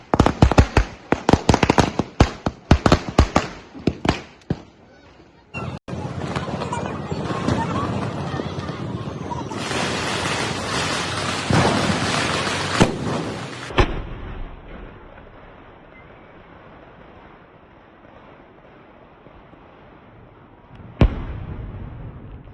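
Diwali firecrackers crackle in rapid bursts of sharp pops, followed by a long loud hissing, roaring spray of sparks, then quieter background and one more sharp bang near the end.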